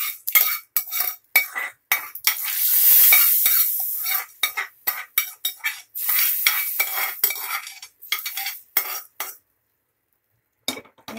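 Tempering of sizzling mustard seeds, curry leaves and asafoetida poured into simmering sambar in a home kitchen, giving a loud burst of frying crackle followed by repeated short metallic stirring and scraping clinks, with no voices.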